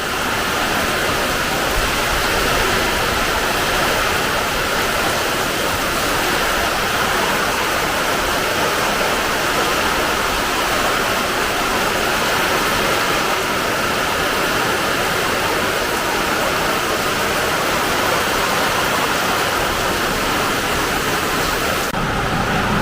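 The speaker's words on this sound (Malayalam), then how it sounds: "ഭയങ്കര കാറ്റും മഴയും കൂടെ അപ്പോൾ" Heavy rain and wind roar as a dense, constant wash of noise, loud and unbroken for over twenty seconds with no voices.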